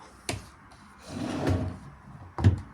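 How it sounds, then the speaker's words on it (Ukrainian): A chest of drawers drawer slides on ball-bearing runners, opening and closing smoothly with soft rolling rumbles and light knocks at each end, close by. "Шарикові направлялки. Дуже лайтово і м'якенько їздять."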